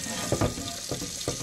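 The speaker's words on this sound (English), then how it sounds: "I've got the hot water running." Hot water running steadily from a tap into a sink while a rusted cast iron pan is being restored, a continuous close wash with a few brief splashy surges.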